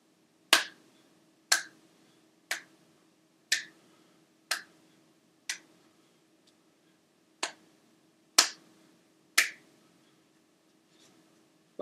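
Sharp hand claps from a Shaolin workout exercise, spaced about a second apart in a steady count with one missed beat, close and crisp against a quiet room.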